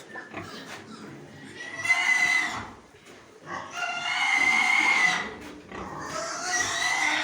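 Pigs in a pen squeal and grunt loudly in three long bursts, separated by short quieter gaps.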